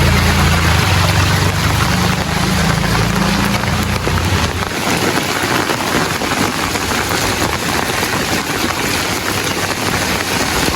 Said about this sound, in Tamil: மழை பெய்து கொண்டே இருக்கு